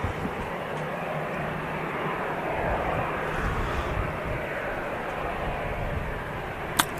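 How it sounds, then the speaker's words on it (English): An Eastern Airways Jetstream 41 turboprop lined up on a runway at Manchester Airport, its engines giving a steady, broad roar heard from a distance that holds throughout. "an Eastern Airways Jetstream 41 lined up on the runway as well"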